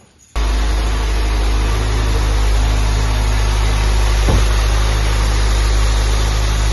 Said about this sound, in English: we're going to run it and see, make sure we're not having any idle issues